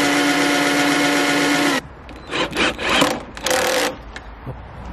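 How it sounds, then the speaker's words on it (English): A power drill whines steadily for nearly two seconds, then stops, followed by a run of uneven rubbing and grinding bursts as it bores through an Ikea Kallax unit, close and loud. "he's got to drill all the way through it"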